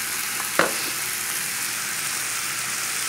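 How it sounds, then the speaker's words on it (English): A Cornish hen sizzles steadily in a pan on a stovetop, a constant hiss of frying fat with one brief louder spatter near the start. "It's almost like roasting it on top of the stove."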